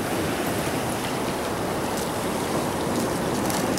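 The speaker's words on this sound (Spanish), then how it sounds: "aquí estamos en el mar, todavía está bajando, está de baja, está súper movido" Rough sea heard from a small fishing boat: a dense, steady wash of waves and wind rushing against the hull, loud and continuous, with no voices.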